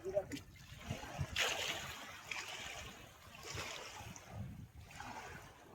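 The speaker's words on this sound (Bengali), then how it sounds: "এই ঢেউটা একবার বোঝো এখানে কিভাবে ঢেউ হচ্ছে এখানে।" Small waves lap and slosh along the bank of the Raimangal river in the Sundarbans, faint and close, with breezy wind noise and soft splashes rising and falling.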